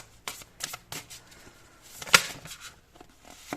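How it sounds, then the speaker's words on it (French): A tarot deck being shuffled and cards drawn: close, soft riffling and flicking of card edges in uneven bursts, with one sharper slap partway through, in a quiet room. "Alors, on va prendre 3 cartes avec ce joli tarot."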